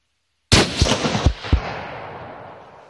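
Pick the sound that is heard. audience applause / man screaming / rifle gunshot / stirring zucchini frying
rifle gunshot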